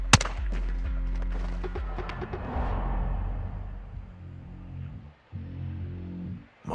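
A single gunshot in Call of Duty: Modern Warfare 2 cracks loudly at the start and then rolls off into a long decaying echo, with low droning tones underneath.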